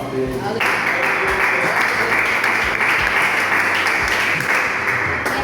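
A church congregation claps together in sustained, steady applause, with a voice heard faintly beneath the clapping.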